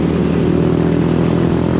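Loud, close engine roar from a Toyota Innova passing on the road, a dense, steady low rumble with no talking.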